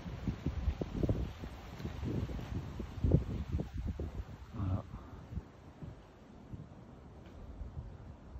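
Gusty, icy wind with scattered tiny snowflakes buffets the microphone in low rumbling bursts, strongest early on and easing to a steadier rush toward the end, at 1 to 2 degrees Celsius in the Rhône Valley.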